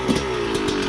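A dirt bike engine revs loudly and close, holding a steady motorcycle drone with slight rises in pitch as the clutch is let out and the bike pulls away, in one brief burst.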